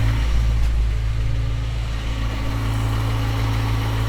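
A panel truck engine idling close by with a deep, steady low rumble and an even exhaust throb, alone with no talk and no revving over the whole stretch.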